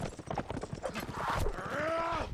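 A horse in a competitive video game match thuds along in quick rhythmic clip-clop hoofbeats, then a drawn-out whinny rises near the end, all mixed with game effects and faint commentary.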